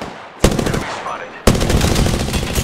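Gunfire from a shooter video game: a short burst, a pause, then a longer rapid automatic volley, loud and close.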